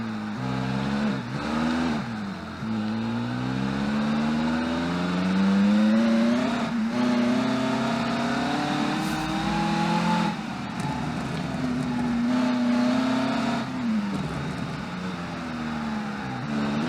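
A 1990s-style supercar in the Automation racing game roars around a track, its engine note climbing and falling through repeated gear changes, loud and continuous with no talk.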